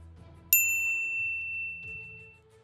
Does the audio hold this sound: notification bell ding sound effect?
yes